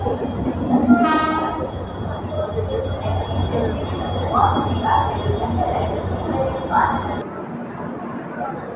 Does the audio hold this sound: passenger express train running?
yes